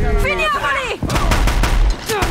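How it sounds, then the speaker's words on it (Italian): Rapid bursts of machine gun fire from a cannon-like weapon in the video game Horizon Zero Dawn, loud and close, with sharp repeated shots layered over game sounds and a voice. "Infatti è proprio una mitragliatrice."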